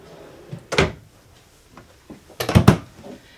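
Drawers in the outdoor kitchen of a travel trailer slide and bump shut, two distinct close thunks with a slight rattle about two seconds apart, and no talking.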